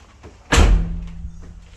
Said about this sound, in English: Colton, you want to go out there and shut the doors?